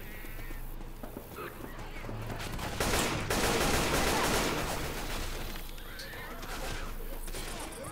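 Gunfire from a video game, with a burst of shots and crackling bursts rising around the middle, mixed with horse whinnies and hoofbeats. Faint talk sits underneath the dense game audio.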